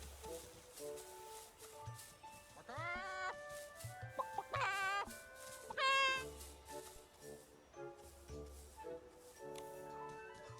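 A voice imitates a chicken's clucking in the video game Infinity Nikki, with several bursts of squawky, rising cluck-like calls over steady game music.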